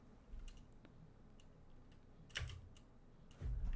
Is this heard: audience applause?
no